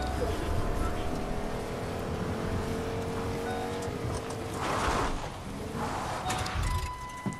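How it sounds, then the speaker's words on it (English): A loud car engine in the video game Fortnite drones steadily throughout, with speech over it at times. "Why do the cars in this game have to be so loud?"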